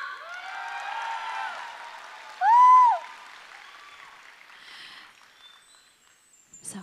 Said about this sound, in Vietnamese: Mà lỡ rồi vỗ tay đều đều được không ạ?